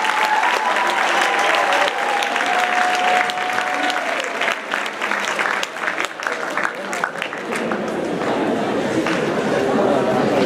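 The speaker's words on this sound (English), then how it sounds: "Can we get a big round of applause for our team?" Loud applause fills a school assembly hall as students clap for a team. The clapping is dense and sustained, with crowd chatter and a few voices mixed in, and it gradually thins toward the end.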